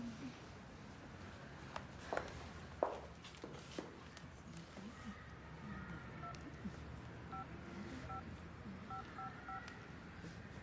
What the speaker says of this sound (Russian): Сеньорита Альказар, вы не ответите на звонок?